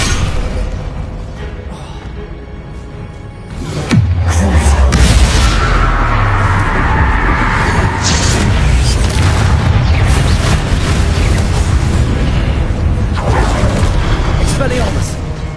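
A Descendo slam spell in Hogwarts Legacy, a heavy booming impact at close range that hits suddenly and then swells into a long, loud rumbling roar with crackling debris, while a voice talks over it.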